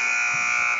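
A basketball game's end-of-quarter buzzer sounding as a steady, loud electronic tone that holds for under a second, with faint crowd noise underneath.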